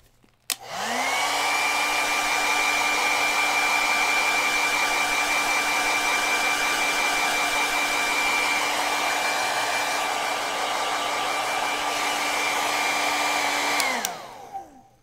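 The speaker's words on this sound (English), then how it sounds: "So I'm going to go ahead and dry this really quick." A hair dryer blows to speed-dry acrylic paint, switching on with a click, then a steady high whine and airy rush held for about thirteen seconds before it winds down and shuts off.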